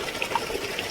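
Water gushes steadily, filling a container for a cow to drink, with a continuous close splashing rush and no pauses.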